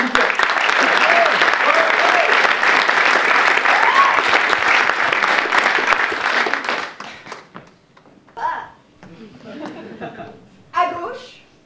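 Audience at a French theatre event applauding loudly, dense sustained clapping that fades after several seconds into scattered claps and talking voices.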